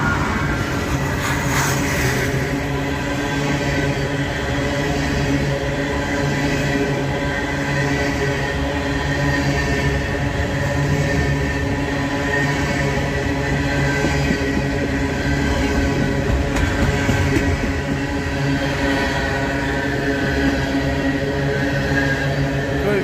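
An empty coal train led by a GP40 locomotive passing at night, a continuous loud rumble of diesel engine and rolling wagons sustained throughout, with no talk.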